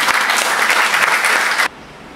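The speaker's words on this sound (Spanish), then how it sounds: "Aquí vamos a recibirlo con un cariñoso aplauso." Audience at a commemorative tribute evening clapping warmly and steadily for a guest announced in the hall, a dense, close roar of hands that continues for about a second and a half, then stops abruptly.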